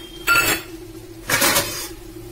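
A lid set on a cooking pot of mutton curry with potato, two short metallic clatters about a second apart, close and fairly loud, with no talking.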